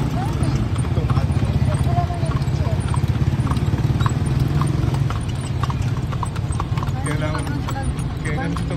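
Horse hooves clip-clop steadily through a horse-drawn tartanilla ride in the downtown streets of Dumaguete City, with a continuous rumble of wheels and traffic underneath and people talking throughout.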